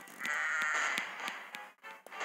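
Goats bleat in the Kingdom Rush video game, a steady wavering bleat with a few sharp taps over it, then a short gap before the sound picks up again.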